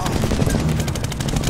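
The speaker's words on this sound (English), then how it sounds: "We're being shot at from all corners!" Rapid bursts of automatic gunfire rattle continuously in the Medal of Honor video game, dense and loud with no pauses.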